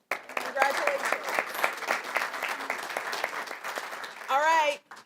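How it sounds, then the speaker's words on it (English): An audience at a youth award ceremony gives a sustained round of applause, many hands clapping in a dense patter, and a voice speaks over the end as the clapping fades. "How about another round of applause for all of our wonderful winners?"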